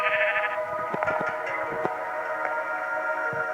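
Sheep bleat repeatedly in a steady chorus in Minecraft, loud and close, with a few sharp clicks scattered underneath.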